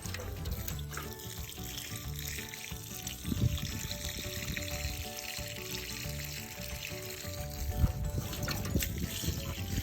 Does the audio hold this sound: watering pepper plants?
yes